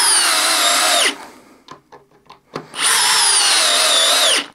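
A DeWalt multi-chuck drill driver whines at high speed driving a screw, stops with a few small clicks and taps, then spins up again for a second long, loud drive of roughly two seconds.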